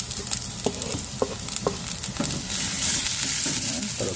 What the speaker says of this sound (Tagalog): Tayo po'y magigisa na ng ating luya, bawang sibuyas, sabay-sabay na po yan.